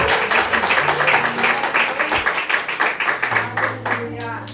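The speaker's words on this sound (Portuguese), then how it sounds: "Uma salva de palmas ao Senhor." A church congregation breaks into loud, sustained applause after a closing prayer, dense clapping with voices and low organ or keyboard tones running underneath.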